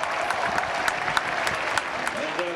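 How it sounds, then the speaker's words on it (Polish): A speedway crowd gives loud, sustained applause for rider Piotr Pawlicki senior, a dense wash of clapping with sharper individual claps standing out. "Gorące brawa."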